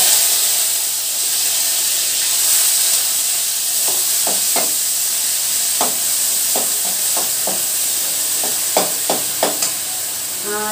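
Onion paste sizzles steadily in a hot pan while being stirred for a snail gravy, with a constant frying hiss and a run of sharp spoon scrapes and clicks that grow more frequent toward the end.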